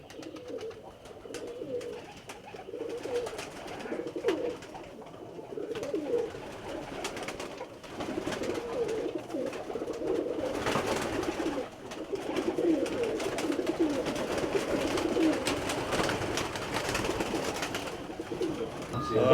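Performing roller pigeons in a loft coo continuously, with layered, close, throaty calls from several birds, rustling and scattered clicks beneath, and faint voices talking in the background.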